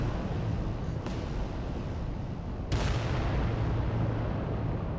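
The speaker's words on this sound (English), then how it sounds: "We've got Volcano Cannon, we've got a Plasma Blaster, Plasma Gun." Heavy artillery-like booms from volcano cannon and plasma weapons firing in the Adeptus Titanicus tabletop strategy game: two sharp blasts over a dense, rumbling battle-noise bed.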